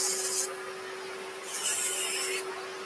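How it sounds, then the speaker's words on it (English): Abrasive rubs against a turned wooden box lid spinning on a lathe, two bursts of scratchy hissing over a steady motor hum, moderately loud and with no talk. "the reason for sanding like we are, it's putting heat into this"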